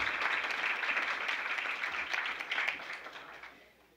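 Audience at a conference on conservation and restoration in Italy claps in a brief, steady round of applause that fades away over the final second.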